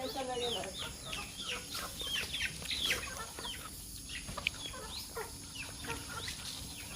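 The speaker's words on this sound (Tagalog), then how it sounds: "Mga manok, manok, manok, manok." Chickens cluck and chatter continuously at moderate distance, with short squawks scattered over a steady outdoor background.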